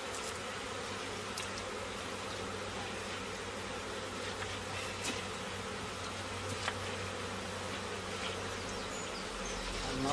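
Bees from a beehive swarm buzz continuously in a dense, steady drone, close and fairly even in level throughout, with no talking.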